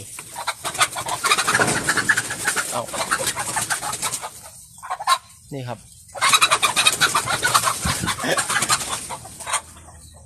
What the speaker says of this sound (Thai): โอ้ไก่มันตกใจ